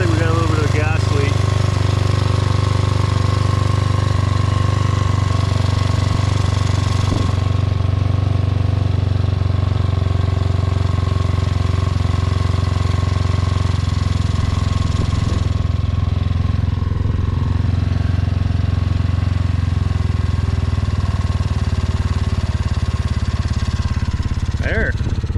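A Honda CRF50 dirt bike fitted with an 88cc big bore kit idles close by in a steady, loud, unbroken drone, with someone talking over it.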